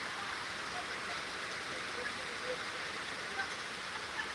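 Steady rain falls over Chittagong, Bangladesh, in the Bhadrahat area, a continuous close wash of hiss with scattered light drop ticks throughout and no talking.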